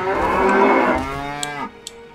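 Cows moo in World of Warcraft, one long, loud, close bellow that rises and then trails off, followed by brief quiet ticks, with no talking.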